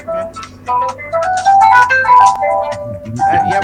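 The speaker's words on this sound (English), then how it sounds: "Yeah, we're hearing that ring." A phone ringtone for an incoming call plays a loud, close, tinkly melodic tune that repeats its phrase during an online tabletop game session, with a voice briefly audible underneath.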